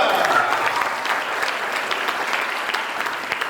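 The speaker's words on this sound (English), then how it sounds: "Big applause for Felicia." Students at a school meet-and-greet applaud a girl named Felicia, a steady wash of crowd clapping that holds at even volume throughout, near and full, with no pause.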